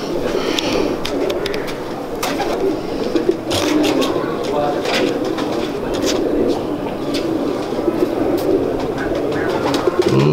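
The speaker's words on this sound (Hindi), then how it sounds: "गोल्डन कबूतर।" Golden pigeons cooing in a bird keeper's loft in Kasur, soft repeated coos and flutters close by beneath fairly loud, continuous people talking.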